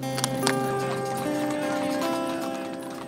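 Stable horses clop along with quick hoofbeats over a backdrop of sustained music, moderately loud and steady throughout.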